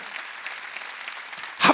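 A church congregation at a Sunday worship service claps, a steady patter of hands that swells into a louder, denser burst at the very end.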